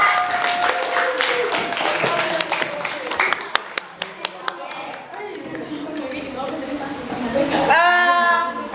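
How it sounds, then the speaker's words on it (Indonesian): A classroom full of students claps for a student group, a brisk spread of hand claps that thins out partway through. Voices carry over the applause, and a louder vocal burst rises at the close. "Kasih aplaus yang meriah untuk mereka."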